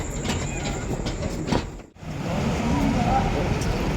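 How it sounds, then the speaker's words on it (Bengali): The Guwahati Express rolls into platform 3 at Nabadwip station with a loud, continuous rumble and wheel clatter that briefly dips, then swells as it draws in, while people talk nearby. "আমাদের গুয়াহাটি এক্সপ্রেস ট্রেন ঢুকছে।"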